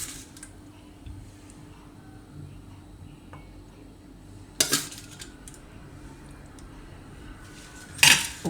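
Boiled cauliflower spooned into a serving bowl, quiet kitchen background broken by two sharp clinks of spoon against dish, one near the middle and one near the end.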